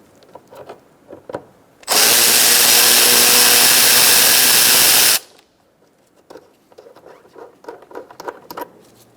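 A power tool fitted with a 10mm socket runs loudly and steadily for about three seconds, backing out a bolt on a 2005-2010 Chrysler 300 during a front control arm and ball joint replacement, with quieter workshop clatter before and after.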